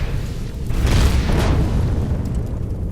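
A turret blowing up in the space survival game Empyrion, a loud, close boom with a dense rumbling tail that stays heavy for a few seconds.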